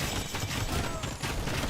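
Bomber cannons in a strategy video game fire in a dense, continuous barrage of loud, overlapping booms and crackles, filling the whole short stretch with battle noise.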